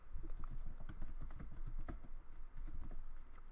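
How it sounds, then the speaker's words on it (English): Typing on a computer keyboard to leave a comment, with a quiet run of rapid, uneven key clicks close by. "I'm gonna type a comment here."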